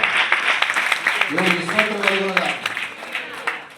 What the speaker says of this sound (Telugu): చప్పట్లు కొట్టండి గట్టి కొట్టాలి గట్టి కూడా